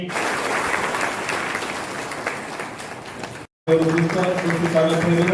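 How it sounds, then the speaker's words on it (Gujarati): An audience applauds at a Teachers' Day award ceremony for honored teachers in a hall, dense steady clapping that briefly cuts out, then resumes with a voice talking over it. "જોરદાર તાળીઓ બજાવીએ"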